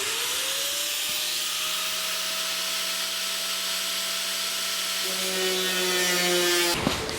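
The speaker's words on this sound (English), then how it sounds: "I'm going to use a little bit bigger cutoff wheel because of the size of the patch" A cutoff wheel slices a patch panel on a 1949 Chevrolet body, a sustained whining grind with steady tones that shift partway through before cutting off abruptly at the end.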